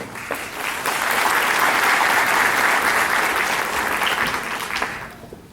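Enthusiastic applause from a large audience at a youth police academy graduation ceremony swells quickly, holds strong for several seconds, then begins to taper off.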